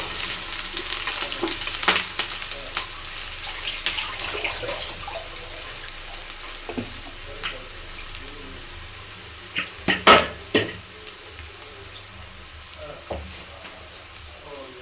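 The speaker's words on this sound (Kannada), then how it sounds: "ಸ್ವಲ್ಪ ಸಾಲ್ಟು, ಹಾಕ್ಕೊಂಡು ಚೆನ್ನಾಗಿ ಫ್ರೈ ಮಾಡಿ" Fresh coriander and spices fry in oil for chitranna (lemon rice), giving a low continuous sizzle with occasional stirring scrapes and a few sharper clinks near the middle.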